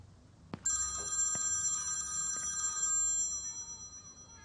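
A telephone rings with a bright electronic trill, one sustained burst of ringing after a click, fairly close and clear with quiet room noise behind.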